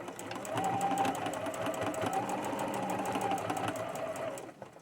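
A home sewing machine stitches a seam on a boho fairy skirt, its fast steady whir running continuously and close before stopping at the end.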